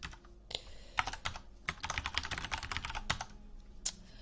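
Quick, uneven keystrokes on a computer keyboard, close and quiet, arriving in bursts of clicks and taps with short pauses, and no voices.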